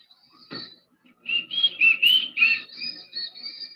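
Crowd whistling at a lively night gathering: several shrill, wavering whistles overlap loudly after a brief thump, continuing in bursts of varying pitch.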